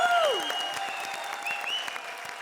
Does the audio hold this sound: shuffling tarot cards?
no